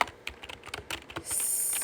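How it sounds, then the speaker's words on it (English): Quick bursts of typing on a computer keyboard, a rapid run of close, crisp key clicks followed by a steady hiss near the end. "And we're going to type in"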